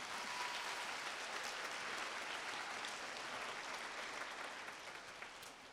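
A round of applause from the audience at the Foley MLK oratory competition, a thick, continuous roar of clapping at a moderate distance that holds steady and then eases slightly toward the end.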